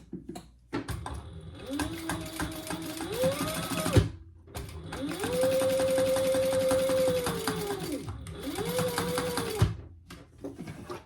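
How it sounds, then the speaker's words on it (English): A sewing machine stitches down the middle of a crossbody wallet in close, steady whirring runs, with a brief stop and a short motor whine between runs and quiet talk underneath. "now we're just going to sew down the middle"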